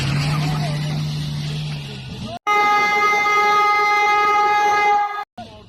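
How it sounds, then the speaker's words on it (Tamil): A train runs along a railway track with a low, steady rumble, then a long, loud, sustained horn blast sounds for about three seconds before cutting off. "நம்ம ட்ரெயின் ரயில்வே ட்ராக்கில் போயிட்டுருக்கா"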